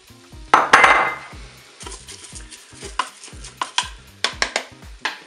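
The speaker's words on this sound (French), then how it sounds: "Maintenant, je vais ajouter mon riz." Rice is tipped into chorizo and browned vegetables in a Cookeo pot, with a gritty pour followed by a series of clinking utensil scrapes and stirring taps against the pot, close and fairly loud.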